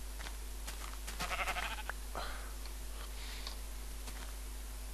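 Sheep in the video game Minecraft bleat a few times at moderate distance over a quiet backdrop, with scattered clicky ticks and a low steady hum underneath.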